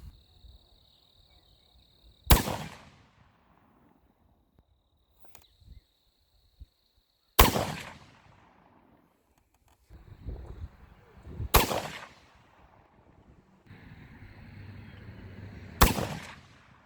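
Rifle shots with Hornady ELD-X bullets, four loud, sharp single reports spaced several seconds apart, each with a short decaying tail, over quiet outdoor background with a faint insect hum.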